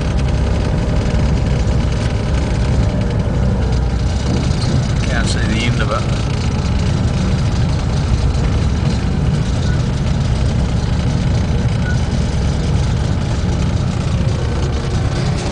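A diesel locomotive hauling a 600-metre, 14,000-tonne freight train in New Zealand rumbles with a steady, loud low engine drone from inside the cab, with someone talking briefly over it.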